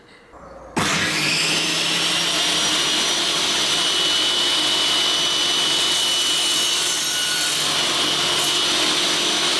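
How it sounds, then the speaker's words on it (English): A power saw cuts across the end of a wooden tenon on a park bench under restoration. It starts abruptly and keeps up a loud, continuous whine close to the microphone. "I'm going to take a cut across here to clean up the end of that tenon"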